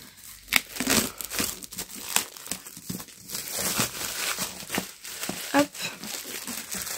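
Plastic shrink wrap crinkles and tears off a sealed dark-edition Nevernight trilogy book, with close, irregular rustling bursts and sharp rips that come and go.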